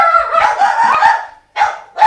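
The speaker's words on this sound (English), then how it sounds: "that's the dog barking" A dog barks and yips several times in quick succession, close and loud, with a brief pause before the last barks.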